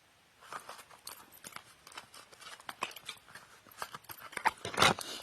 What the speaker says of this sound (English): I was just shuffling my deck